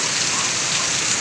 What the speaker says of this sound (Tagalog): Sobrang lakas ang ulan po dito mga guys oh.